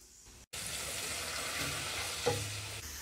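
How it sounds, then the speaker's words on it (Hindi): Spices for chole masala (salt, turmeric, coriander powder and garlic-ginger paste) frying in a pan: a loud, steady close-up sizzle with stirring scrapes, and no voices. "मसाले को हम हल्का सा फ्राई करेंगे, यानी भून लेंगे।"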